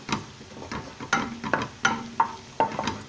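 Garlic frying slowly in oil in a pan, with a soft sizzle under repeated scraping stirs from a utensil, about eight distinct strokes in an uneven rhythm, close and fairly quiet.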